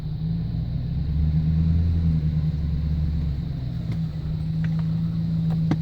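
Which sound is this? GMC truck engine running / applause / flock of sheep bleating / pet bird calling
GMC truck engine running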